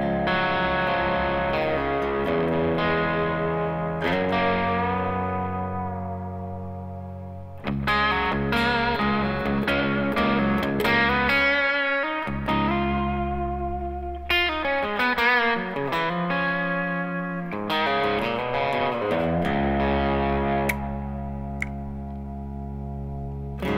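Electric guitar played through a Princeton Reverb amp with reverb, delay and a Nordland pedal on, sustained chords and notes ringing with washy echo tails, loud and continuous with no talking.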